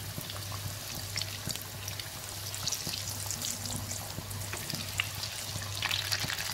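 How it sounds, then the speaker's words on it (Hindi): Battered fish fingers, about ten of them, frying in hot oil in a home kitchen, giving a steady dense crackle and sizzle with scattered pops throughout, close and continuous with no talk. "अब हम इसमें फिश फिंगर डाल के फ्राई कर देंगे"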